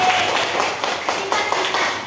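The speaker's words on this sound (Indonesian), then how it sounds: "tepuk tangan untuk kalian" A primary school class claps together at close range, a dense patter of hand claps with a few sharper accents, filling the whole moment.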